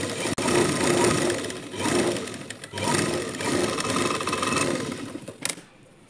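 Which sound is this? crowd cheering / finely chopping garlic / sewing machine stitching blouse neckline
sewing machine stitching blouse neckline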